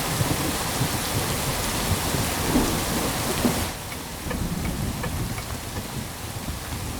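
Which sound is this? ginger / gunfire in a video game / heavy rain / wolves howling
heavy rain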